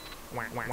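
Cartoonish duck quacks from Duck Game, three rising squawks in quick succession over a brief hum of game sound, fairly loud and close with no talk.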